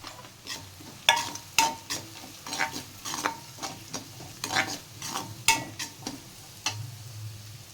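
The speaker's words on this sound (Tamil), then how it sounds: "கொஞ்சம் முந்திரி பருப்பு சேர்த்துக்கிறேன்." Cashews and crushed ginger and garlic fry in a pan for carrot rice, giving a soft sizzle under repeated scraping stirring strokes, close and moderately loud, with no voices.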